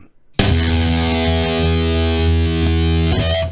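A heavily distorted electric guitar chord through a Two Notes Wall of Sound amp simulator on its destroy mode blasts in suddenly and rings out loud and saturated for about three seconds before cutting off.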